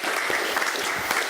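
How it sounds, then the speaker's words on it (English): Small gathering claps for two men, a brief, continuous patter of applause close by with no speech on top. "let's give these two guys a round of applause"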